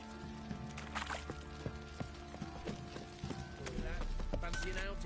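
Horse hooves clip-clop through a busy stretch of The Witcher 3: Wild Hunt, irregular and mid-distance, mixed with game chatter and ambient noise while voices talk over them.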